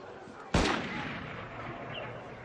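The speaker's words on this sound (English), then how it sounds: "Like gunfire going on outside." A single sharp gunshot-like blast outside amid a constant rumbling background in the Assassin's Creed Unity game, with the crack decaying into ongoing noise.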